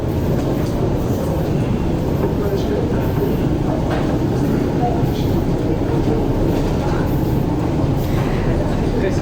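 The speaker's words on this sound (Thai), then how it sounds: "อันนี้เป็นสถานีรถไฟใต้ดิน" Busy Paris RER underground station ambience: a steady low rumble and hum with crowd murmur and scattered distant voices throughout.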